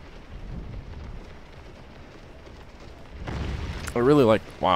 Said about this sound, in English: that little explosion there with some Union canister ripping into my line